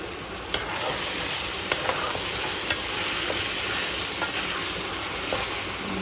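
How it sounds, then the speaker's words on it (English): Curry powder burning in a pot for Jamaican curry goat, an even, dense sizzle with a few light stirring taps, close and steady throughout with no voices. "Keep burning it and stirring it."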